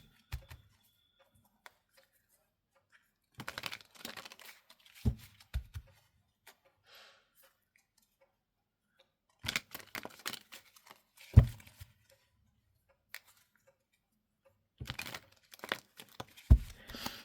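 Oracle cards being drawn from an American Indian deck: several bursts of shuffling, crinkling and card handling, close and fairly quiet, separated by long pauses of near silence.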